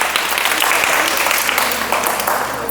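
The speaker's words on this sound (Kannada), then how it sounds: "ಈಗ ಚಪ್ಪಾಳೆ ತಟ್ರಿ" Children clap together at a summer camp, a loud, dense burst of applause sustained throughout, with faint voices mixed in.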